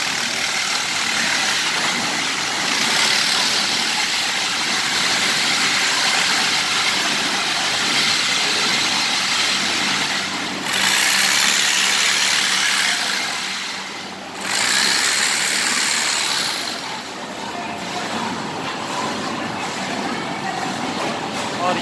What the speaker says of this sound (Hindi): ये पैकिंग एरिया है, ये सिलाई हो रही है बैग पे।